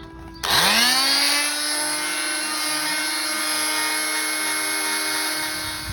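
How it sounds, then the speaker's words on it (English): A power sander sanding a car alloy wheel spins up and whines steadily at close range, a constant high-pitched grinding hum with no talking. "So there's a bit of progress with the sanding."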